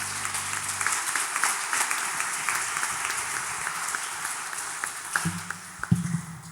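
Church congregation applauding in praise during an Easter resurrection service, a steady broad wash of many hands clapping throughout, with a few low tones and a brief voice near the end.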